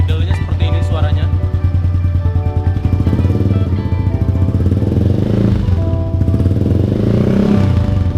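Yamaha Aerox scooter fitted with a WRC Trioval aftermarket exhaust, idling close by with a steady low throbbing putter, the engine note holding even for several seconds with slight wavering near the end.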